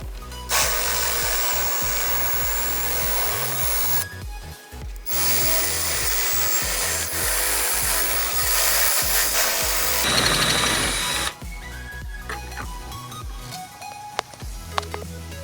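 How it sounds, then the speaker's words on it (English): A drill with a metal step bit cuts out rivets on a Jeep JK frame, a loud, steady, harsh grinding whine running in long bursts separated by short pauses, with occasional clanks near the end. "we're just going to drill these rivets out"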